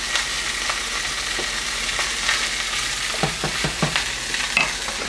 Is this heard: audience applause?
no